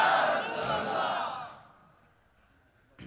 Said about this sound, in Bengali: আওয়াজ দিয়ে বলি নারায়ে তাকবীর, নারায়ে রিসালাত